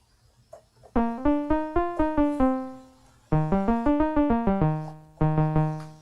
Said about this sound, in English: It's good, it's kind of plucky. And it's definitely a more interesting sound than just a constant sawtooth wave